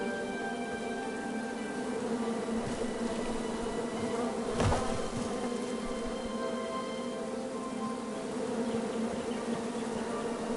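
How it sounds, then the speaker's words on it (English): A swarm of bees drones steadily and close by with a dense, unbroken buzz that holds level throughout, and one brief louder rush passes partway through. "Bees! I ruined the bees' day and that lovely meal."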